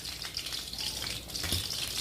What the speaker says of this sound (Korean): 붙어있는 고기를 튀긴다는 게 상상이나 했겠어요